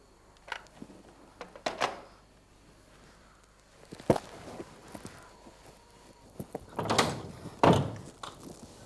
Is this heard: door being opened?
yes